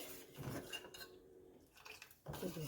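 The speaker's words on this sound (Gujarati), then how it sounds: "એને આ રીતે ચમચા વડે ચલાવતા જઈએ" A metal ladle scrapes and clinks against a pot while chutney is stirred, a few close taps and scrapes with a quieter pause in the middle.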